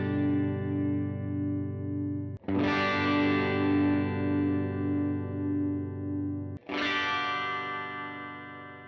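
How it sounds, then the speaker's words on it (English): Distorted electric guitar chords played through humbucking pickups ring out and sustain, struck three times with a warm, thick, heavily driven tone that slowly decays. "we're going to use the black switches here to get some more typical humbucking tones"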